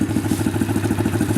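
Motorcycle engine idling and turning close by, a steady pulsing putter with a rhythmic mechanical clatter and no speech.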